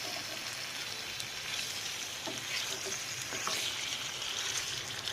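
Washed chicken pieces fry with softened onions in a pan, making a quiet, continuous sizzle with faint crackles and light stirring throughout, with no voices.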